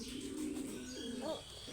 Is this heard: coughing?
no